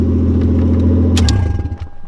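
A Lexus IS300 with a swapped 1JZGTE engine idles with a deep, steady rumble close by, then is shut off, the sound dying away with a brief jingle of keys.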